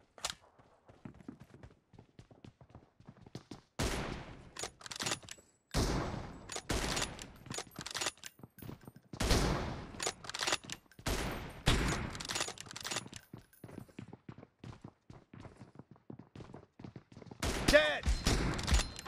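M24 sniper rifle shots ring out during a 1v2 team deathmatch in PUBG Mobile. Sharp, loud cracks come in irregular bursts with short quiet gaps between them, and a faint voice is heard at times.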